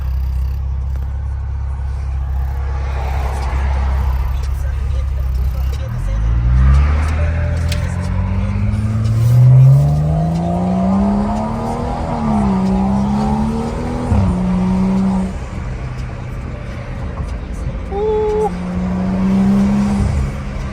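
BMW F10 535i with a custom intake and pops-and-bangs tune at night, engine note climbing loudly through several rising sweeps as it accelerates, with a pause between pulls and people talking over it.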